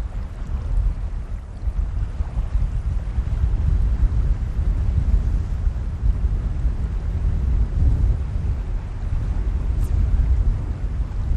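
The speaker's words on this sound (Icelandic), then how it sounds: "Stífur vindstrengurinn gerir það að verkum að línan rekur ekki hægt niður ána" Strong wind blows steadily across the Víðidalsá river in Iceland during a fishing trip, a loud, continuous low rumble of gusts buffeting the microphone for the whole stretch, with no voices.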